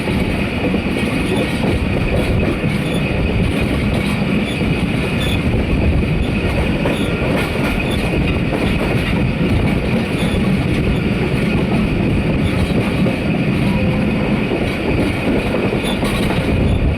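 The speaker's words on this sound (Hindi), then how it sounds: "हमारी ट्रेन पहुंचने लगी है कोटरी जंक्शन रेलवे स्टेशन पर" A Rehman Baba Express passenger train pulls into Kotri Junction railway station, with loud, steady rumble of rolling wagons and wheels on track, a continuous rattling roar with faint squeals throughout and no voices.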